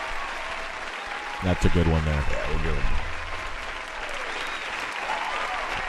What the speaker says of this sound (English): I have a couple different claps here